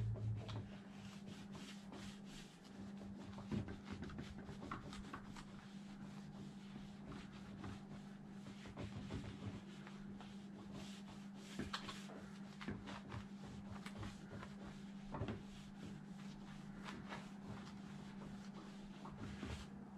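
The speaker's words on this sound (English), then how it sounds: "I'm going to throw a little bit of alcohol on my rag, and we're going to clean up this chassis" A microfiber rag dampened with alcohol rubs over an Arrma RC car chassis in a steady, continuous wiping scrape, close and quiet, with a faint constant hum underneath and no speech.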